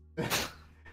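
A single short sneeze, sudden and fairly quiet, with a faint breath after it.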